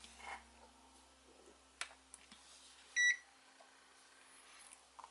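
AN999S low-cost bench multimeter switching on indoors, with a single short electronic beep among faint clicks and handling noises in a quiet room.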